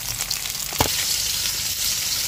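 Fish dish simmering in a pan with an oil-based sauce after frying, giving a close, steady sizzle and bubbling throughout, with no talking.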